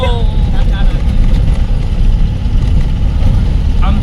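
Bus engine droning steadily while the bus drives off-road through nature, a loud continuous low rumble with bumps and rattles, with birdsong chirping faintly over it.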